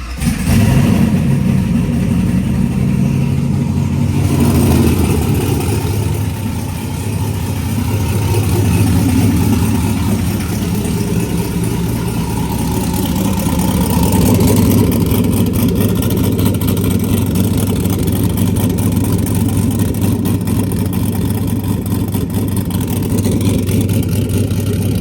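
A turbocharged LS-swapped Ford Crown Victoria cranks and fires, then settles into a loud, rumbling, slightly uneven idle that carries on without a break.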